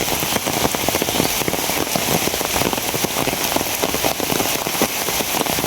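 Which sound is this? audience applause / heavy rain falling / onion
heavy rain falling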